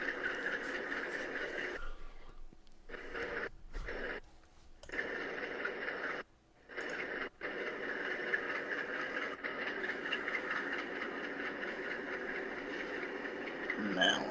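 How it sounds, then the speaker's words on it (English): A Kentucky Utilities coal train rolls along a Norfolk Southern line, a steady distant rumble and drone with a couple of brief dropouts, heard on its own without talk. "This train is headed for the Sassafras Loader."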